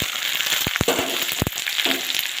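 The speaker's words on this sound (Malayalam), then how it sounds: "എന്നിട്ട് ഇഞ്ചി ഇട്ട് കൊടുക്കാം" Chopped ginger fries in hot oil, along with mustard seeds and pepper, for a bilimbi pickle, giving a steady close sizzle broken by a few sharp clicks of stirring in the pan.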